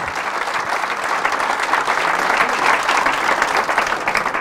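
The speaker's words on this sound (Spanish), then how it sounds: "Fuertes aplausos al Señor Jesús." A church congregation breaks into strong applause, a loud, dense and steady wash of many hands clapping for several seconds.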